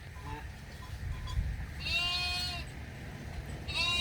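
Goats and sheep on open grazing land raised for livestock trade, bleating in a few separate calls, mid-distance, over a steady low rumble of outdoor background noise.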